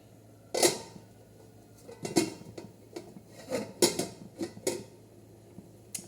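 A lid goes onto a pot of tomato curry set on full heat, heard as a handful of close metallic clanks and clinks spaced over several seconds against a quiet background, with no talking.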